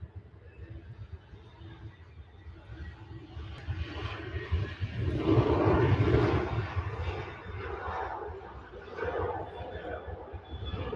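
A Ryanair airliner at Manchester Airport gives a rumbling engine roar that swells to a peak midway and then recedes, while people talk over it.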